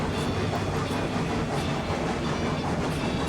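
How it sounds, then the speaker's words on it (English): A steam locomotive in the railroad game RailRoads Online is pushed to full steam on a steep grade. The result is a dense, steady rumbling rush with rapid clattering chuffs, loud and continuous throughout, with no talk. "I'm going to give it full steam as soon as we get on the straightaway"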